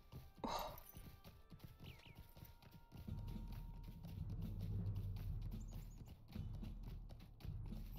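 Horse hooves clip-clopping in a steady rhythmic gait while riding in the video game Lord of the Rings Online, faint and continuous after a brief whinny-like sound near the start.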